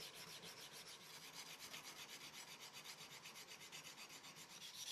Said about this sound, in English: It felt like I was hand sanding this blade forever